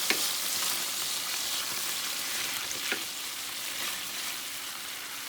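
Cream and balsamic sauce for scallops sizzles steadily in a pan, a constant close frying hiss with a couple of faint stirring scrapes.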